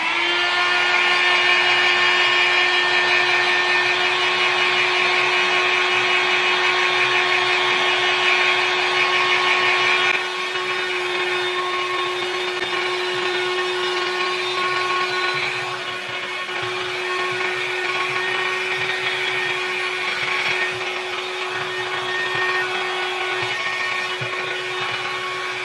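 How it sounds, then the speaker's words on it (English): A Panasonic hairstyler blows hair dry at the roots on a warm setting with a loud, steady whine. Partway through it drops to a slightly softer, lower roar and keeps running with no talking. "I just put it on blow dry and I'll get to the roots where I don't want my hair to be wet"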